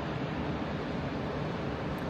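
Sea waves at the shore in Gangneung, a steady, loud broadband wash with wind buffeting the microphone, continuous and unbroken, with no speech.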